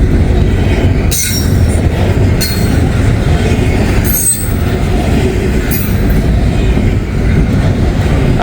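A train passes through snow, its railcars rumbling steadily at close range while shrill wheel squeals flare up several times over the clattering wheels, with no one speaking.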